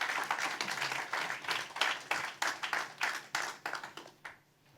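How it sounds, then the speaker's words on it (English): Audience applause at an international philanthropy conference panel, a dense burst of clapping from a seated crowd that thins into scattered individual claps and fades out over about five seconds. "Please clap for Aaron."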